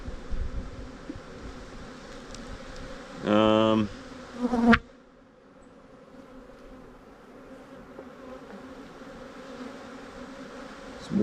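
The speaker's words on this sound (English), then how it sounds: "there's plenty of bees in this colony" Honey bees hum in a steady low drone around an opened hive of a large, aggressive colony, with a louder burst of close buzzing midway before it settles back to a softer background hum.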